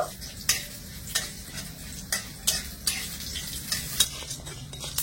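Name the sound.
frying chana, urad, arhar dal, cumin, mustard seeds, dried chilli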